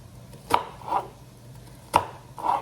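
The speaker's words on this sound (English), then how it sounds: "we're going to cut this onion" Knife chopping an onion on a cutting board for homemade soup, four close, crisp cuts in two pairs, each a sharp knock followed by a softer thud, with no talking.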